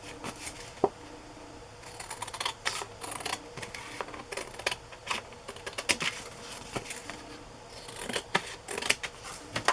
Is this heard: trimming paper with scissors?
yes